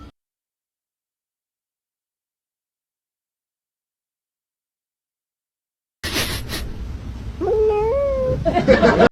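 A male cat meows several times in quick succession, with rising, wavering cries close to the microphone, after a long stretch of silence and a brief noisy rustle.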